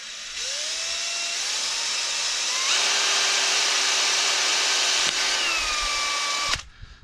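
A power drill whines steadily as the bit bores through metal on a VW Crafter van, its pitch shifting under load before the motor cuts off abruptly at the end.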